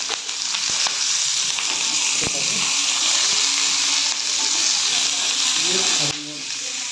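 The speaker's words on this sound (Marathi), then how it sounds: "तेल टाकून भाजून घेते जास्त नाही टाकले ते" Thecha ingredients roast in a little oil in a pan, giving a steady, loud, close sizzle that runs unbroken, with a few faint knocks of stirring and no talking over it.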